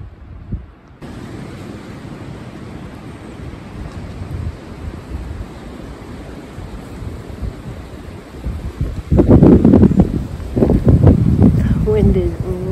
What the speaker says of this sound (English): wind is really strong.